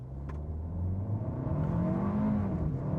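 A 2025 Kia K4 GT-Line turbo sedan accelerates uphill, its engine note rising steadily as revs climb over three seconds, loud and close with a smooth, continuous drone and no talk.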